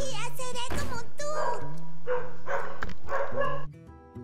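A dog barks several times in quick bursts, close and loud, over game music and someone talking during a Hearthstone stream.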